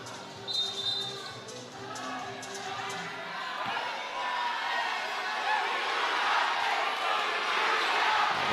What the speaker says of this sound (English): The crowd is going wild here.